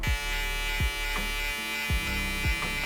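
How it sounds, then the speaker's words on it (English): A Loretto electric shaver buzzes steadily up close, its top blade tapping against skin at a beard taper, making soft repeated contact pulses roughly every half to one second over the constant motor hum. "Now I'm going to be using my Loretto shaver, and I'm just going to be using the top blade"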